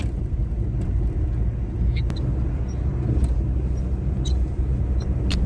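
A car travels a road on a long-distance road trip in India, its steady engine and tyre rumble continuous and fairly loud throughout, with a few faint higher clicks over the drone.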